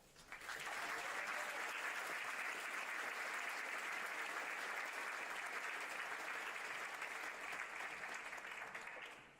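Sustained applause from a commencement ceremony audience welcoming a speaker to the podium, a dense, even wash of clapping that swells in quickly, holds steady for several seconds and fades at the end.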